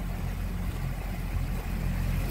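Fishing boat motor running just above idle while the boat moves slowly over water, a steady low droning hum with a faint wash of water, continuous and fairly close, no talk.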